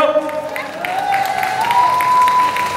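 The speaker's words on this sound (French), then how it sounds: "on applaudit Dan Cardozo" An audience at a Paris manga convention applauds a guest, with a continuous wash of clapping under a sustained tone and a voice speaking over it.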